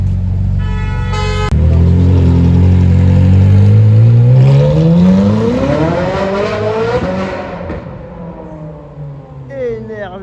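A Ferrari 458 Spider supercar in a Paris street revs hard, its engine note climbing steadily in a loud rising sweep before falling away, with a short horn-like toot at the start and crowd chatter around it.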